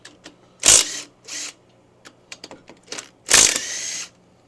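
An impact wrench breaks cylinder head bolts free on a 1972 Harley-Davidson XLCH Ironhead Sportster. It rattles out in two short, loud hammering bursts with a brief lighter burst between them, and small clicks and clanks fill the gaps.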